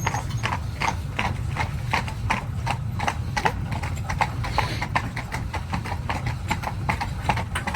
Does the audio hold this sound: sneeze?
no